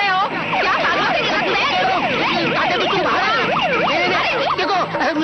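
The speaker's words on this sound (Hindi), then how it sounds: "देखो म्यूनिसिपालिटी की गाड़ी आ गई" A municipal vehicle's siren wails loudly and continuously as it arrives, its rising and falling sweeps repeating rapidly and close, mixed with overlapping voices.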